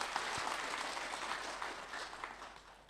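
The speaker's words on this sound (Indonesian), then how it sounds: "Tepuk tangan dong." An audience at a religious talk gives sustained applause, a dense wash of clapping that gradually thins and softens toward the end.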